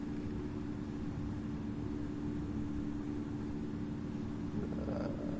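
A Ryanair Boeing 737 rolls down the runway in the Infinite Flight simulator, giving a steady, continuous low engine roar with a constant drone, unbroken and moderately quiet, with no talk over it.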